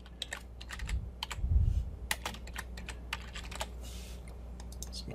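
Computer keyboard typing while renaming a layer in photo-editing software: a close, irregular run of sharp key clicks with a few soft thumps, short pauses between bursts, and no talking.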